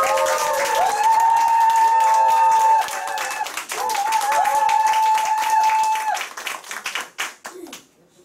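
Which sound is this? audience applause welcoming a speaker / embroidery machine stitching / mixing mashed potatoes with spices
audience applause welcoming a speaker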